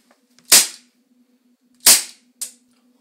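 Three sharp toy gun shots crack out close and loud, two well spaced and a quicker third, each with a short ringing tail over a faint steady hum, no voices.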